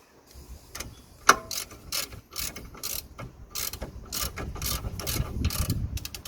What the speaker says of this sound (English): then we're gonna tighten the locking nut which is on the track rod itself